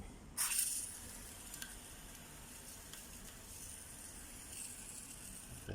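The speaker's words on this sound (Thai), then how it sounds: "อันนี้เราก็ฉีดน้ำยาล้าง" Cleaning solution sprayed onto a Panasonic air conditioner during servicing, a sharp hissing burst at the start followed by a steady soft wet spray and dripping hiss, close and continuous.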